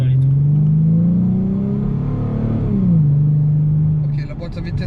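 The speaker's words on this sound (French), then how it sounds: "Tu peux aller très haut dans les tours" Ford Mustang V6 engine revving high through the gears in manual mode, a loud close interior drone rising in pitch, dipping at a shift, then climbing again before easing off, with people talking over it.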